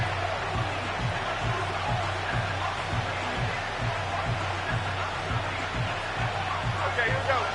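A stadium crowd roars steadily in an American football video game, Giants at Eagles, with a thick, continuous wash of noise under a rhythmic low thumping throughout.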